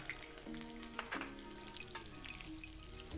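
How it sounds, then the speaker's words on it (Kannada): Curry leaves and green chilies frying in oil in a pan, a steady close sizzle with a few soft stirring knocks and scrapes, no talk. "ಸ್ವಲ್ಪ ಎಲ್ಲ ಫ್ರೈ ಆಗಲಿ ಕರಿಬೇವು ಮತ್ತು ಹಸಿ ಮೆಣಸಿನ್ಕಾಯಿ."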